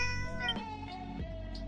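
A cat in the video game Dragon Quest VII Reimagined meows in a few short, close calls over soft, steady background music.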